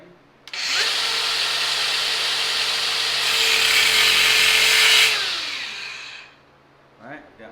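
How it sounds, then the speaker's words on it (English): An angle grinder with a cutoff wheel scores a line on the body of a Subaru Sambar KS4. There is a loud, steady high-pitched whine lasting about six seconds, then it spins down, followed by brief clatter. "angle grinder, and we're going to score a nice line here so that I can see where it is"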